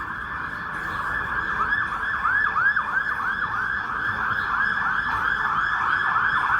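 An ambulance siren wails along a street in Ljubljana, Slovenia, a loud, rapid rising-and-falling yelp that repeats steadily and grows slightly stronger as the vehicle approaches over faint road noise.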